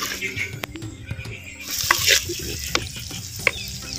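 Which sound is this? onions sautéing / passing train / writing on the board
onions sautéing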